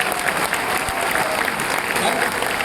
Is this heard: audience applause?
yes